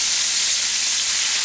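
Food sizzling in a hot pan while cooking, a steady, loud, bright hiss that runs unbroken throughout with no voices.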